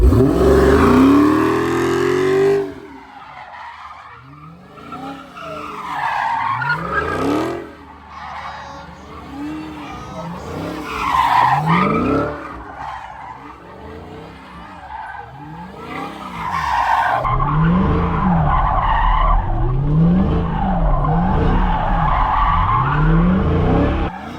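A Dodge Hellcat sliding in the Roblox game Jailbreak, loud repeated tire skids and squeals that rise and fall in a regular rhythm over a steady engine drone.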